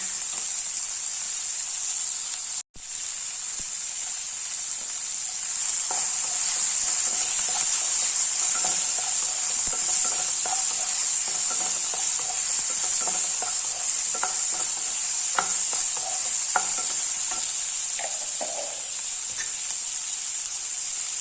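Tomatoes sautéing in a pan, a constant close, loud sizzle with a high hiss, broken briefly early on, then joined by repeated scraping and tapping of a stirring spoon, with no one speaking.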